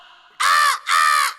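A voice mimics a crow with two loud, harsh caws in quick succession, each lasting about a third of a second, close to the microphone.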